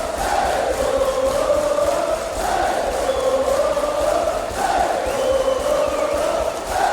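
A large concert crowd at a show cheers and chants loudly in steady, rolling waves, calling for the band to return.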